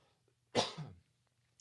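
A single sharp, close cough bursts out in quiet, with a second brief noise right at the end.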